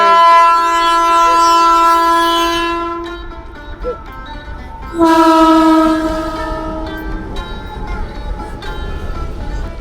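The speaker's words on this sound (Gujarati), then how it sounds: "ફાટક બંધ છે ટ્રેન નીકળે એટલે તમને ટ્રેન બતાવીશ તો ટ્રેન આવી ગઈ" A double-decker freight train passes a closed level crossing, its horn blaring loud and close in long sustained blasts with a second burst midway, over the steady rumble of rolling wagons. Someone briefly exclaims.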